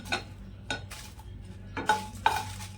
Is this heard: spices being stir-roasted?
yes